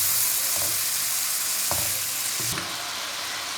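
Spices for a chicken and potato curry fry in a pan with a loud, steady hiss, and a few soft stirring scrapes break in near the end. No voices are heard.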